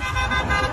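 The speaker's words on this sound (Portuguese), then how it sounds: "da melhor forma, com um mega buzinaço" Dense car horns blare together in a mass honking protest on a jammed highway in Bahia, a continuous loud wall of overlapping toots with traffic underneath and no break across the short stretch.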